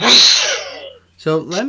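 A single sharp sneeze bursts out loudly up close, followed after a short pause by a person starting to speak.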